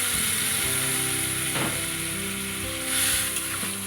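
Water lily stems frying in a pan for a koi fish curry, a steady close sizzle with light stirring scrapes and clinks throughout, no voices.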